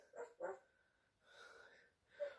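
A dog gives a few short, quiet barks close by, two quick ones followed by a softer drawn-out whine and another brief yip, with no talking.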